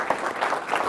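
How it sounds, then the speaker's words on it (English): Audience applause at the 2015 Edison Awards panel discussion, a brief, steady patter of many hands clapping throughout, fairly close and moderately loud. "Another round of applause, please, for the three of them."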